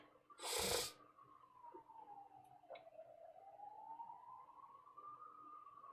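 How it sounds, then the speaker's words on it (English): Ambulance siren passing outside, faint and distant, wailing in a slow rising and falling sweep after a brief loud noise at the start. "That ambulance sounds great, doesn't it?"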